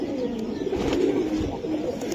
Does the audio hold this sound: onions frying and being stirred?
no